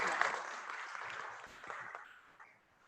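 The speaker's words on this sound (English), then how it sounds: "Let's give Joe a round of applause." An audience applauds a member of the crowd at a policy talk, a short burst of clapping that fades over a few seconds.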